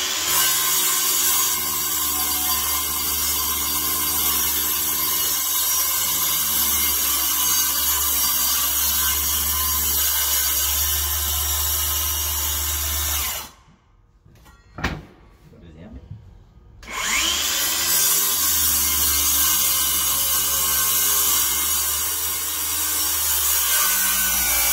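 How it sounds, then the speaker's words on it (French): A power saw makes plunge cuts into a hardwood floor board during a board replacement. A loud, close, grinding cut runs steadily, stops for a couple of seconds midway, then starts again and continues to the end. "Donc, premier trait de scie."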